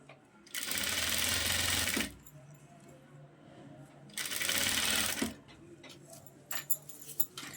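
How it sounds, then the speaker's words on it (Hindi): A sewing machine stitches a panel of a 14-panel full-flare Anarkali frock for a six-year-old girl. Two close, steady bursts of stitching are separated by a quiet pause, then a few light clicks and taps follow. "इसको इसके ऊपर रख के ऐसे मैंने सिलाई लगानी है"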